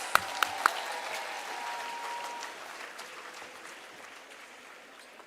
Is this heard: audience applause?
yes